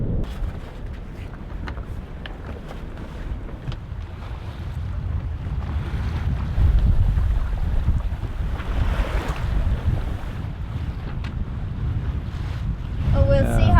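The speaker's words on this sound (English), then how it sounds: "it can be quite tiresome to just have this constant wind all the time" Steady wind buffets a sailboat at an exposed anchorage behind a reef with no island for shelter, a loud continuous roar of gusts and mic buffeting with a low rumble of water underneath, no voices.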